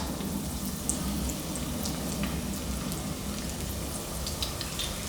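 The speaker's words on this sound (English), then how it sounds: "I'm going to slowly layer the shrimp into the oil." Shrimp fry in hot oil in a small pot, a dense, even bubbling sizzle like light rain, with occasional brighter pops and a low rumble underneath.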